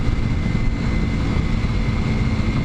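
A 230cc, 16-horsepower dual sport motorcycle engine running at about 57 mph, a loud, steady, low drone mixed with wind rush that holds evenly throughout.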